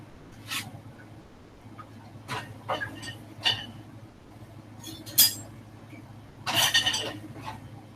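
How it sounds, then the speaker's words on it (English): A spoon clinks against a pot while scalding milk is stirred, several light metallic taps and scrapes spaced irregularly over a faint steady hum. "I'll stir it."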